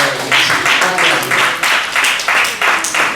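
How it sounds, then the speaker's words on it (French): Congregation applauding during a church service, broad rhythmic clapping that swells in regular bursts and fills the room, loud and continuous. "Acclamez pour la parole"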